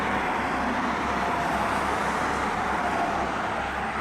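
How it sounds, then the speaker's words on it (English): Steady, loud roar of cars streaming past on a nearby road beside old burial mounds in Sioux Falls, a near-constant broadband wash of traffic noise with no gaps and no talking. "standing out here trying to film, these cars right here are loud as shit"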